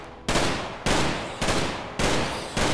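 Gunfire in the video game RimWorld, in a sniper fight: five sharp, loud shots spaced about half a second apart, each trailing off briefly before the next.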